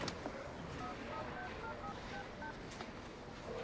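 Touch-tone telephone keys are pressed in a quick run of about a dozen short beeps on an indoor phone, heard faintly against a soft background hiss.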